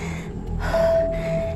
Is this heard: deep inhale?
yes